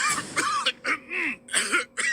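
A series of harsh, dry coughs, about six short bursts in quick succession with brief pauses between them, close and fairly loud.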